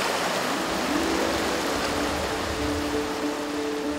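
A mountain river in Inje, Gangwon Province, flows with a steady, broad rushing hiss that stays even and fairly loud throughout, with no voices.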